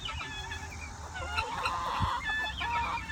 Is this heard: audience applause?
no